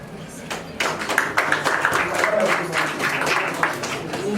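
Audience applause at a press conference, a steady wash of clapping that swells after a brief lull and holds for several seconds, with scattered louder claps and voices mixed in.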